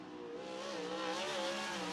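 A 360 sprint car on a speedway qualifying lap, its engine a sustained high-revving drone with a wavering pitch, moderately distant and steady throughout, no voices.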